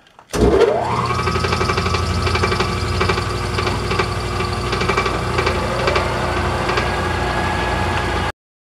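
A drill gearbox starts up and runs with a steady, loud mechanical drone and rhythmic knocking, continuous for several seconds before stopping abruptly.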